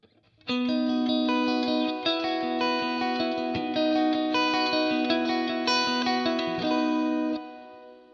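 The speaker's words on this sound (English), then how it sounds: "So here is the Boss Reverb on its own." Sustained electric guitar chords ring out through a BOSS amp with its lush reverb effect alone, notes blooming and trailing off into a soft tail.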